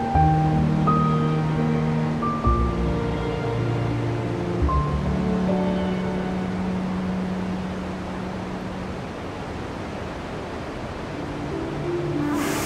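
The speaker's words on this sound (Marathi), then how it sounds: "या धबधब्याचं पाणी प्रचंड आवेगानं कोसळत होतं" A loud, steady roar of rushing water fills the clip, broad and continuous like a heavy waterfall crashing nearby at Anuskura Ghat, with no voices.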